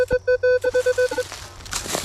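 A metal detector sweeping debris at the site of an 1850s house in Cold Spring Harbor, New York, gives a target reading of 24: a rapid run of about nine short, clear electronic beeps, then brief rustling and soft handling noise.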